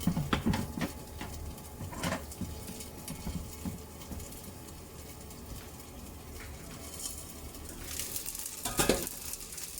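Rice simmering in a pot on a stove, soft bubbling and light sizzle with occasional clinks of cookware, and a faint bird cooing in the background.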